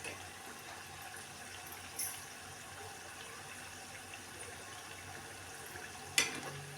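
Soaked chana dal frying in hot oil, a steady low sizzle and bubbling that holds evenly throughout, with a couple of brief clinks from a utensil and no talking.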